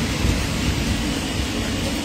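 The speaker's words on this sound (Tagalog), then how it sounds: "Ayan na po, oh. Umulan na. Lakas ng ulan." Heavy rain pours steadily with gusting wind during a rainstorm, a dense, loud, continuous roar close by with no voices.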